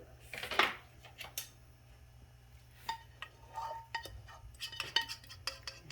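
A spoon cuts into baked macaroni and cheese and spreads it in the dish, a series of soft scrapes and light metallic clinks against the dish, close and quiet, with pauses between strokes.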